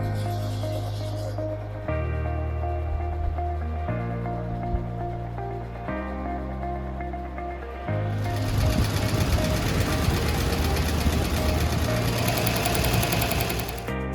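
A computerized embroidery machine runs a design in fully automatic mode, its steady rapid stitching hum loud and continuous, shifting to a busier, denser mechanical clatter partway through.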